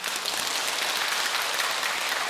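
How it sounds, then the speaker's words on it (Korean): A crowd applauds at a Buddhist dharma ceremony marking a 100-day practice at a temple, producing a brief, dense burst of even clapping from many hands, with no voices. "여러분 박수하세요."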